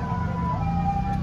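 An ambulance siren wails faintly over a low traffic rumble in Japan, a brief, steady tone from a vehicle at a distance.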